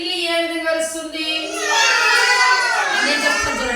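Children's voices imitate a cat's meow, a chorus of high-pitched, wavering calls that swell and overlap across the whole stretch, fairly close and steady.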